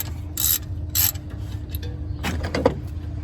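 A pulley belt is tightened on a 1984 GMC Sierra, heard as sharp metallic ratcheting bursts and clicks from a hand tool, close and intermittent over a low idle-like hum.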